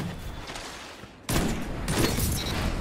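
Praedyth's Revenge fires in Destiny 2, quick loud gunfire bursts close by after a quieter moment, with sharp cracks layered over dense game noise.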